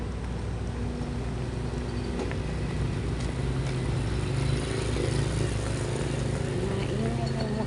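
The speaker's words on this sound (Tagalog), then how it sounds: "Maingay yung motor doon." A noisy motorcycle passing on a street, its engine droning and rising slightly as it moves by, heard from a pedestrian's position amid general traffic rumble.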